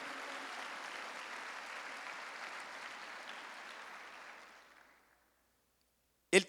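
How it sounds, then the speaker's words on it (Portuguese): A church congregation at a Sunday service applauds together in a steady wash of clapping that gradually fades out into silence, followed by a brief sharp knock at the very end. "Quem recebe isso, dá um aplauso a Jesus."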